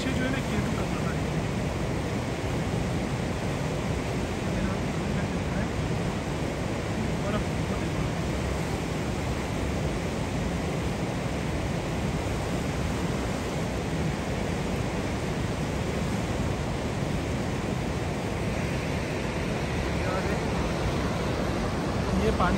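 Water rushes steadily near a mountain village, a broad, continuous roar of flowing stream that fills the whole stretch at constant loudness with no pauses.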